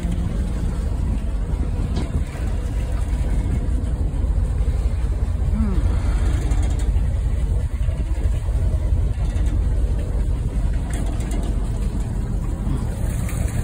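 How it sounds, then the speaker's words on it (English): Twin Scania V8 engines drive a tour boat in Portsmouth Harbour, a low steady rumble with rushing water and wind noise beneath people talking nearby. "What are the engines on here? You've got two Scanias on here."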